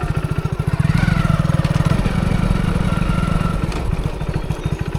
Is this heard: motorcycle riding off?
yes